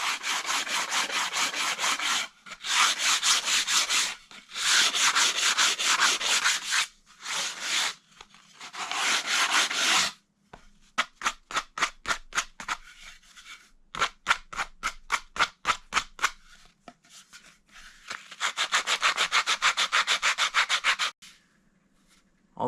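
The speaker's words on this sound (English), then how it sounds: "sanding any rough spots I find" Rough, rhythmic rasping strokes of abrasive on wood, long scrubbing passes broken by pauses and a run of short, quick scrapes, close and alone.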